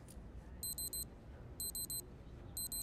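A quiet electronic alarm beeps in short bursts of four rapid tones, repeating three times over a soft background hum.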